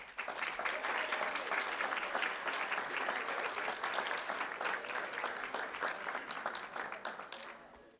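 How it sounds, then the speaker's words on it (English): Applause for a high school jazz band at a school board meeting, a dense, sustained burst of many hands clapping that holds steady and then tapers off near the end. "Let's give them a round of applause."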